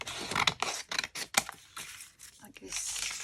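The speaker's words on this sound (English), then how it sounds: "cut this with scissors" Scissors cutting through paper for a junk journal envelope pouch, several close, crisp snipping strokes in quick succession followed by softer rustling of the paper.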